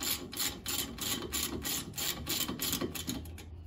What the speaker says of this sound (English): So the first thing we're going to do is remove the hose clamp here.